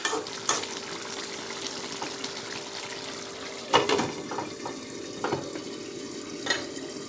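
Eggplant and fish bhapa sizzle in a pan while being stirred and turned over, a steady frying hiss punctuated by a few distinct scraping knocks of the utensil, loudest midway.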